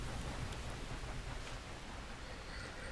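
Steady rain pours in the video game Red Dead Redemption II, a dense, even hiss of drops on surfaces that stays loud and constant throughout.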